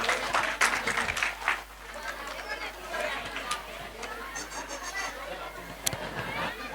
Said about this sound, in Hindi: जोरदार ताली बजाओ इन बच्चों के लिए